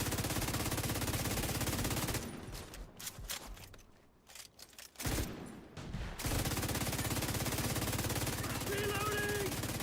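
Automatic weapons fire in The Division 2 during the Mutiny launch-day content, loud sustained rapid bursts that drop away for a few seconds mid-clip before heavy firing resumes.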